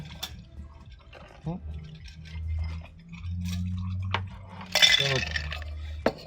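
Liquid poured while a cocktail is made at a bar, soft splashing and dribbling with light clinks of glass and utensils, someone talking quietly over it.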